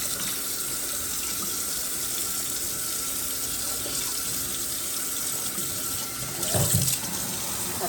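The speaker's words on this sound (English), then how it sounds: "I just want to give the sink a good rinse." Water runs steadily from a tap into a kitchen sink as it is rinsed out, a continuous close hiss and splash with a brief louder splash near the end.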